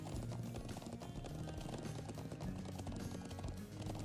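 A horse's hooves clip-clop in a steady, quick rhythm as it crosses the Nord Highlands countryside in the video game Trails of Cold Steel, with dense game sound around it and no speech.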